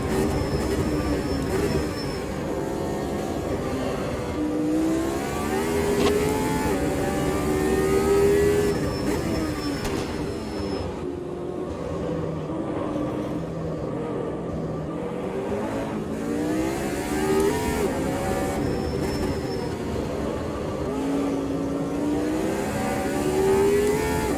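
A 1976 McLaren M23 race car in Automobilista 2 roars loudly and continuously, the engine pitch sweeping up through gears and dropping on lifts as it laps the circuit alone.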